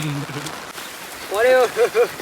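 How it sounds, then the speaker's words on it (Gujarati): Monsoon rain falls steadily in a soft, even hiss, with voices calling out over it toward the end. "તો આવતો છે ભાઈ વરસાદનો"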